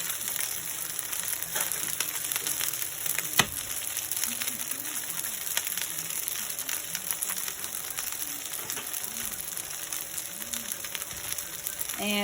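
Eggs frying in butter in a pan for Mongolian chicken fried rice, a steady broadband sizzle running the whole time with a few soft clinks and stirring scrapes, no talk.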